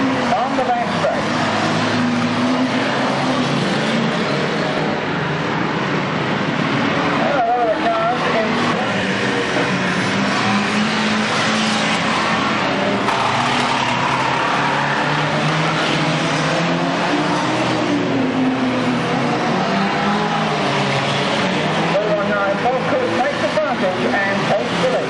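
Banger race cars roar around a track in a continuous dense engine din, loud and sustained, with a commentator talking over it throughout.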